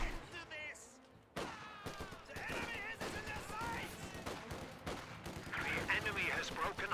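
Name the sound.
machine gun and rifle fire in Company of Heroes 2 video game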